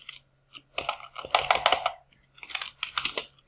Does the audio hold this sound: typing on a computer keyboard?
yes